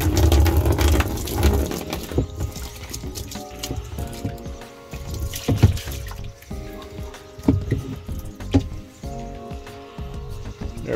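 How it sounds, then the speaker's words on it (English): Water runs steadily into a test tank for a Japanese Tanaka 175 outboard boat motor, a continuous splashing fill lasting about eleven seconds under other workshop and background sounds. "let's get some water going in this tank"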